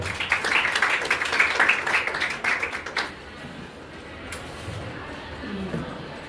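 Audience at an education congress panel applauding, a dense burst of clapping for about three seconds that cuts off into quiet room tone with faint movement.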